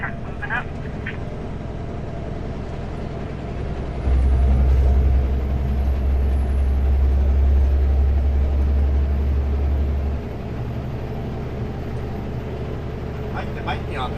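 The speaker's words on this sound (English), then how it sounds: "That truck moving up." An 11-axle truck on a highway moves up alongside. Its deep engine drone swells for several seconds and then fades, over a constant road rumble heard from inside a cab.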